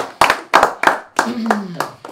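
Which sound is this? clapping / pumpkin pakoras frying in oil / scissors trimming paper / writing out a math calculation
clapping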